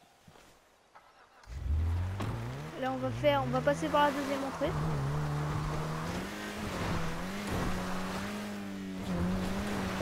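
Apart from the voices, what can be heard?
car driving and revving in GTA 5 video game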